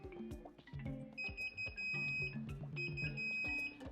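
An Inkbird WiFi aquarium controller sounds a temperature alarm: repeated electronic beeping tones in short bursts amid clicks and clatter, like an alarm going off in a quiet room.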